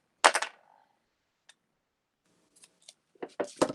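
Scissors snip through foam tape for a raised-layer card craft, a loud crisp cut at the start followed by scattered faint snips and a busier run of close cuts at the end.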